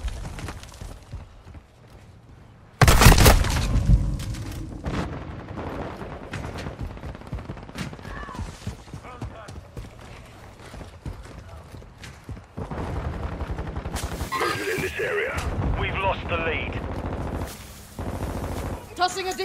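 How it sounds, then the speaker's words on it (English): Gunfire and grenade blasts from a Modern Warfare 2 team deathmatch on a game map, with loud bursts of rapid shots and explosions, quieter stretches between them, and game voices calling out over the action. "Throwing Semtex! Throwing flash grenade!"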